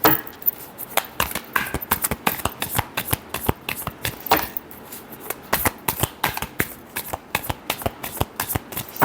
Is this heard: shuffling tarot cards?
yes